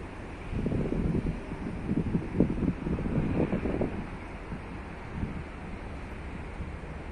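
Steady wind noise rushes and buffets outdoors, gusting unevenly with low rumbling bursts, fairly loud and continuous throughout.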